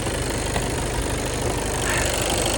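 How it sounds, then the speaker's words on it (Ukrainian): A 2018 Volkswagen Passat B8 with a 2.0 TDI diesel engine idles steadily close by, a constant low rumble with a faint rattle and no talking. "двигунчик працює як швейцарський годинник"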